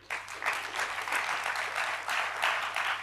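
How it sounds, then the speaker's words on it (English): A conference audience of about 200 people applauds itself, a moderate, fairly distant patter of many hands that swells and sustains for a few seconds. "you should always applaud yourself"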